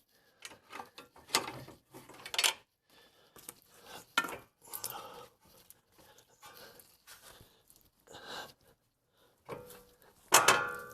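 A pry bar seating a CV axle on a 2012-2016 Honda CR-V all wheel drive, heard as a series of irregular close metallic clanks, scrapes and knocks with short pauses, ending in a louder clunk.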